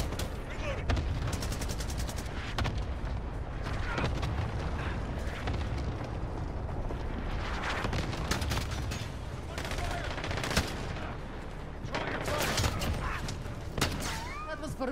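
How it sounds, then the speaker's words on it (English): Rapid, sustained bursts from an AA12 automatic shotgun in a video game, dense booming gunfire running nearly the whole stretch amid game noise, with a player's voice talking over it. "Oh my god, I love this shotgun"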